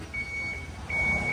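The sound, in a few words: Transtron truck reverse voice warning tone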